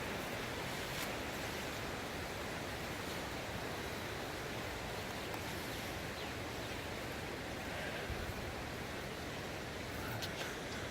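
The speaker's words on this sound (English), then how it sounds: "and more running water." Floodwater of Indian Creek rushing across a flooded roadside area with submerged fences, a steady, broadband wash of running water that holds constant throughout, fairly loud and continuous with no voices.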